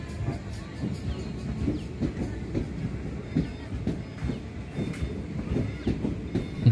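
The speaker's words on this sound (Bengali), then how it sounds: "দেখতে পাচ্ছেন খুব আনন্দর সাথে ট্রেনটি ছুটে চলেছে" A passenger train running on the rails away from Balurghat railway station, a steady rolling rumble with rhythmic wheel clicks over the joints, at moderate distance with no voices.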